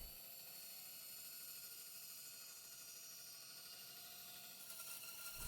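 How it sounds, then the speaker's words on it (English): A bandsaw cuts out cigar box guitar parts, giving a steady, even mechanical whine and hum that runs the whole time at a low level and brightens slightly near the end. "now I cut these out on the bandsaw"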